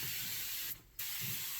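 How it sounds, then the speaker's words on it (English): Cleaner hisses steadily from a spray bottle inside the cab of a John Deere 4430 tractor. The hiss is loud and close, with a brief pause partway through before it resumes, and there is no talk. "I'm gonna start spraying this thing down"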